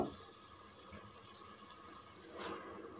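Cooking water poured into a pot of white chickpea curry with green chillies, a soft continuous splashing pour that swells briefly near the end, quiet and close.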